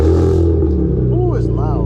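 A loud Nissan 350Z drift car engine runs close by with a steady, throaty drone, and people talk over it.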